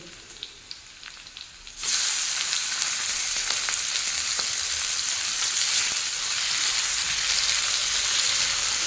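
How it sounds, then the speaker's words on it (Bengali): Chicken pieces drop into a pan of frying onions with cinnamon and erupt into a loud, steady sizzle after a quieter stretch of faint crackling, continuing close and unbroken to the end. "পেঁয়াজটা ঠিক এইরকম ভাজা ভাজা হয়ে যাবে যখন, তখন এর মধ্যে আমি দিয়ে দেবো চিকেন"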